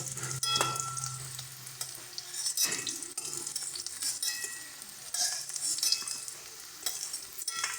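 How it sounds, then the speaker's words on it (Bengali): Potato pieces fry lightly in hot oil for a raw banana kofta, giving a crackling sizzle broken by scraping and clinking stirs, close up and without talking. "আলুগুলো কিন্তু হালকা লাল লাল করে ভেজে নিয়েছি"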